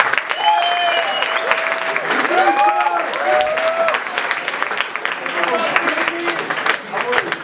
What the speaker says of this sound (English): give a round of applause for Rene